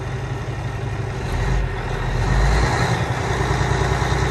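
A used truck's engine idles steadily nearby, a loud, continuous low rumble that swells slightly partway through, with no voices over it.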